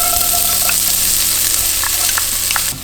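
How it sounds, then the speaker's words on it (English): Shallots sauté in oil in a pan for pork binagoongan, a loud, close, continuous sizzle with a few light stirring knocks and no voices. "Now we're just gonna start sauteing the shallot first."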